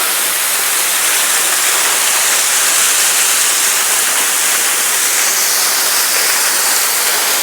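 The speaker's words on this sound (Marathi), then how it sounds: "आणि इथं पडतो तो धबधबा" A waterfall near a temple pours with constant, loud, broadband rushing that stays steady throughout with no voices.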